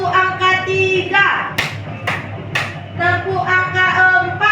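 Three crisp, evenly spaced hand claps form a counting clap in a classroom. They cut through steady talking by a teacher.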